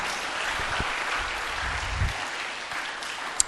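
Steady applause from a congregation at a Christmas youth church service, a broad even wash of clapping that fills the whole moment with no voices over it.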